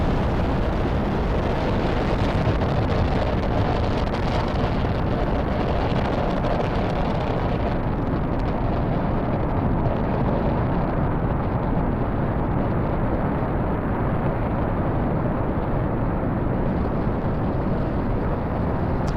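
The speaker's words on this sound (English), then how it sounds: "It is dark, but we can definitely hear Falcon 9." A SpaceX Falcon 9 rocket climbs away from its pad during a night Starlink launch. Its engines make a continuous, loud, broadband roar and rumble that holds steady throughout, with no voices.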